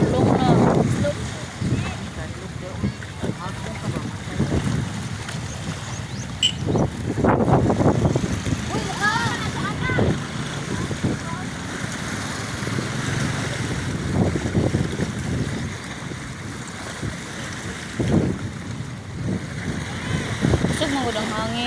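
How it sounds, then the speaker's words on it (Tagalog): Strong seaside wind buffets the microphone at a beach as rain comes in, a constant roaring rush with gusty surges and waves underneath, while people talk intermittently over it. "Kusog man gud ang hangin."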